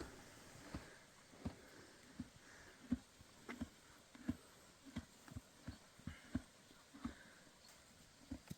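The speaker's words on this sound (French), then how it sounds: "Là, on écoute juste le bruit du cheval qui mange." A horse chewing close by in the Apennine mountains of Italy, soft crunching bites in a steady, even rhythm, quiet, with no voices.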